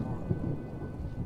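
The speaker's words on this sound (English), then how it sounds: "Lightning's kind of close" A deep rumble of thunder rolls through a rainstorm in the video game Skyrim, low and sustained beneath steady falling rain.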